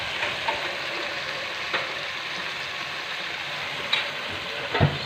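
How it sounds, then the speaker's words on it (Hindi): Beef karahi sizzles steadily in the pan as yogurt goes in, a close, even frying hiss with a few soft clicks and stirring scrapes, no voices. "अब हम इसमें ऐड करेंगे दही।"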